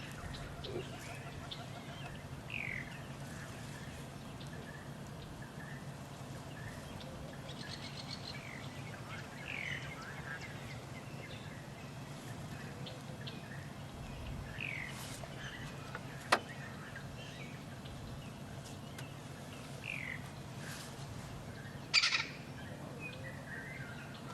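Many different bird species call in the African bush at sunset, with scattered chirps, tweets and whistles at moderate distance over a soft ambient background, plus a few sharp nearer clicks.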